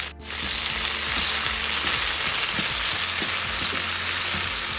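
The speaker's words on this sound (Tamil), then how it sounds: "நல்லா வதக்கிட்டு ஃபுல்லாக இது வெந்துடுது." Onions and tomatoes sauté in a hot oiled pan for bottle gourd gravy, giving a loud, dense, continuous sizzle close up with a few faint stirring knocks and no voices.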